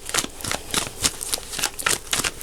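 Cards riffle and slap in quick repeated bursts, a crisp papery flutter close by, with no voices.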